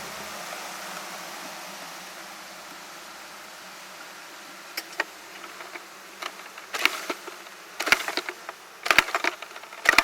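Black bees swarming at a château during a night transfer, a steady soft hum of many insects with scattered louder buzzes and brushing bursts growing busier toward the end.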